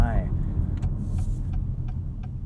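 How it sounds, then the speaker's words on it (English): 2021 Acura RDX A-Spec SH-AWD with its 2-liter engine, a steady low engine and road rumble heard from inside the cabin while driving. "I like the way this 2-liter sounds."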